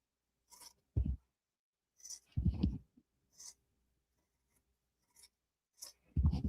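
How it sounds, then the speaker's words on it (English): Scissors snip the fabric corners of an in-the-hoop machine-embroidered zippered bag, making a few faint, crisp, irregularly spaced cuts close by in an otherwise quiet room. "when you get to the corners, you're going to snip them close"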